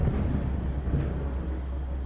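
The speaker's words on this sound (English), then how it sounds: "It was closely followed by a chest-reverberating rumble of thunder." A deep, chest-shaking roll of thunder rumbles low and continuous in a stormy audio drama scene, with a faint hiss like rain beneath it and no voices.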